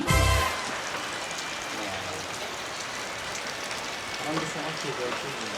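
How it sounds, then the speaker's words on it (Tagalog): Steady, dense hiss of heavy rain pouring down near Cat Cat Village, Vietnam, constant and close throughout, with a brief louder burst at the start. "it's raining cats and dogs."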